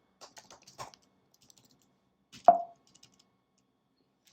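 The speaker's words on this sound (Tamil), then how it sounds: "ஸோ நான் இப்போ டைப் பண்ணி பார்க்குறேன் எப்படி இருக்குன்னு அந்த ஃபீலு" Typing on an Apple Magic Keyboard with numeric keypad: a few soft, close key clicks in a short cluster, a pause, then one sharper key tap, in an otherwise quiet room.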